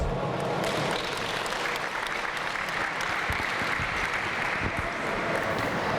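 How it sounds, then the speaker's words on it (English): Sustained applause from an audience at a coaching talk, dense and steady clapping filling the room for several seconds without any speech over it. "Give them a round of applause, please"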